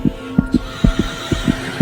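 A deep, thudding heartbeat pulses steadily and loudly, about four beats per second, each thump sharp and resonant.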